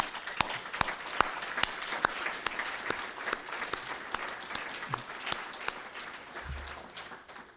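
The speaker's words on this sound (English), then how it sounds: "So I want to give all the winners one last round of applause." Applause at an awards ceremony for the winners, a smaller audience giving steady, sparse clapping with distinct individual claps standing out, continuing evenly through the stretch without talk.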